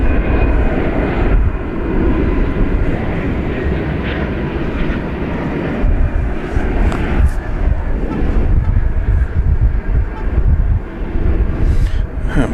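An American Airlines Boeing 767 jet departs DFW Airport, its engines a steady, loud broadband roar that rumbles on throughout, with some wind buffeting on the microphone.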